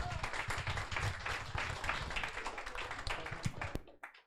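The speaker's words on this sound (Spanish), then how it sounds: "Un aplauso, por favor, a Eric." Audience applause inside a church, a dense patter of many hands clapping steadily for several seconds before stopping abruptly, with some voices mixed in.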